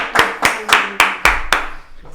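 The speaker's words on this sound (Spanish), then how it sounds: "Aplauso," Six sharp, evenly spaced claps ring out in a podcast studio, close and crisp, with faint background sound after the last one.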